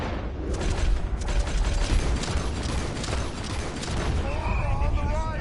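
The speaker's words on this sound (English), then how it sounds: "All right, shoot us some space," A Red Dead Redemption 2 shootout from a moving trolley: rapid, overlapping gunshots crackle in bursts over a mechanical rumble, with a voice talking briefly between shots.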